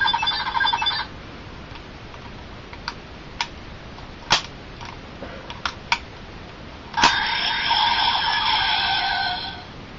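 A Power Rangers Dino Thunder morpher toy plays its electronic sound effect: a bright warbling chime at the start, scattered clicks and taps, then a longer electronic tone, close and clear.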